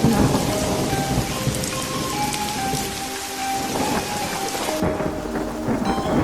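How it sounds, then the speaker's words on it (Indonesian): Heavy rain pours steadily in a thunderstorm while thunder rumbles and rolls beneath it, a loud, continuous storm sound effect in a story, with no voices. "Kilat mulai menyambar. Hujan turun dengan sangat derasnya."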